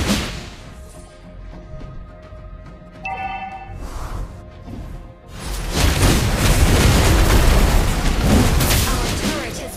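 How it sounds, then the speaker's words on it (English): A turret destroyed in a ranked video game match, heavy booming explosion blasts that swell into a loud sustained roar of blasts and debris, following earlier game sound effects. "Our turret has been destroyed."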